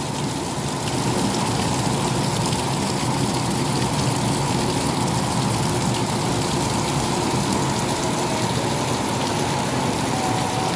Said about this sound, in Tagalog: Kasi ito lang may sobrang lakas ng ulan